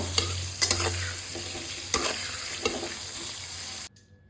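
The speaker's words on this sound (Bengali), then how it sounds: "বেগুনগুলো দিয়ে দিলাম, একটু হলুদ, একটু নুন দিয়ে দেবো, ভালো করে একটু নেড়ে হালকা হালকা ভাজা করে নেবো" Eggplant pieces with turmeric and salt frying in oil, a close steady sizzle with several spatula clacks as they are stirred, cutting off abruptly near the end.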